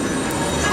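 An underground train at a station below a downtown Boston street, rumbling steadily with a faint high wheel squeal.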